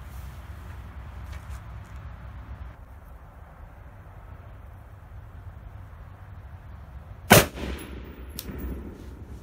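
A single sharp rifle shot fired from a rifle resting on a Magpul bipod, with a 10X scope, cracks loudly and close against quiet outdoor background noise, followed by a brief ringing tail.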